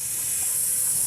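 A voice imitates bacon sizzling in a pan, giving a short, steady hiss alone at moderate loudness.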